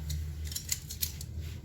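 Scissors snipping cooked meat into pieces for a Vietnamese banh mi, several quick close cuts in an uneven rhythm over a low steady hum, with no speech.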